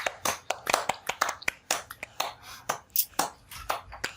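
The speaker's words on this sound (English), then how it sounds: "I demand a clap for my extremely unbiased and amazing rulings." Several people clap hands in a loose, uneven patter of sharp claps, close and fairly loud, filling the few seconds without talking.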